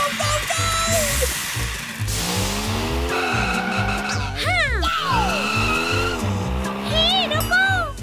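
Cartoon car chase in a kids' detective-and-police adventure: a car speeds by with repeated tire squeals and skids, sweeping pitch slides over a rhythmic musical backing, loud and continuous with no talk.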